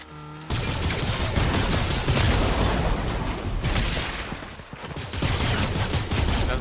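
Heavy rapid gunfire in a shooter video game, loud overlapping bursts and volleys that rise and dip but continue almost without break.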